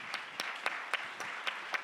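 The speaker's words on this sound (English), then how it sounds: "if you give them another round of applause," Scattered hand claps ring out at a tech competition final in Tokyo as the audience applauds the judges, a thin, sparse round of individual claps at an uneven rhythm, fairly faint and distant in a large hall.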